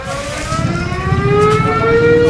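A siren sounds near an airport in Merauke, a loud rising wail that climbs steadily and holds strong and close over a faint low rumble.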